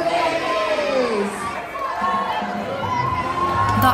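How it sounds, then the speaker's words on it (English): Excited crowd cheering and whooping at a baby crawling race on a Disney Dream cruise ship sea day, a steady wash of shouts and children's voices with talk mixed in. "The audience clapped and cheered as the babies made their way slowly to the finish line"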